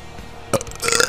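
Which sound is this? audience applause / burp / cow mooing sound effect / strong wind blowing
burp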